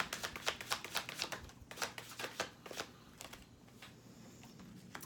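Tarot cards shuffled by hand for a reading, a brisk run of close riffling bursts in quick rhythm that slows and softens toward the end, with no talking.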